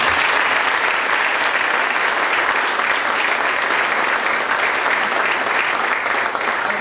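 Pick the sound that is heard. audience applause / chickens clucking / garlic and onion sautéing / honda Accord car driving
audience applause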